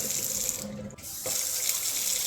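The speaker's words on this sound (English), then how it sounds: "Water off, water on." A kitchen faucet runs into the sink with a steady splashing rush, cut off briefly for a moment and then turned back on at the same strength.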